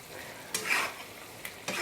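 Egg bhaji, an egg curry, is stirred in a pan, giving a few short scraping strokes over a soft background sizzle.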